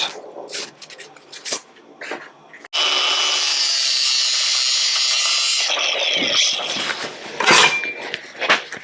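A metal panel is cut with a power tool during restoration of a 1969 Triumph GT6 Mk2, giving a loud, steady, harsh whine of about three seconds between softer scraping and handling noises nearby.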